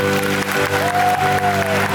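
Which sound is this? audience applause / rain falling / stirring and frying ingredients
audience applause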